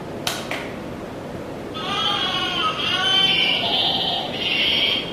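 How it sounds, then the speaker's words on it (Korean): Electronic sound effect of sheep bleating from a Ravensburger board game: after a couple of short clicks, a few wavering, electronic-sounding bleats run steadily for about three seconds, moderately loud and close, with no talking. "지금 양소리가 여기인 것 같고"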